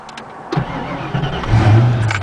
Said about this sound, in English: To even start a car that is a manual transmission, you have to have the clutch all the way depressed before attempting to start it.